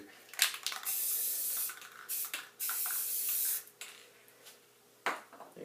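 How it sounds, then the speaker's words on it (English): An aerosol spray can hisses in several bursts, some short and some held for about a second, with brief quiet pauses and a light rattle between them. "when you're spray painting the background"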